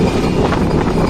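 Chilahati Express train rolling along the rails heard from on board, a loud, continuous rumble with wind buffeting the microphone and no talk.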